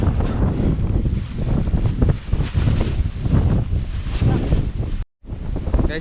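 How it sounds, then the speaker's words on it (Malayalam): Strong wind buffets the microphone at the Kolukkumalai hilltop viewpoint, a loud, continuous, gusting roar with no speech, briefly dropping to silence near the end. "വിട്ടാ പറന്നു പോണ ലെവലിലുള്ള കാറ്റാണ്"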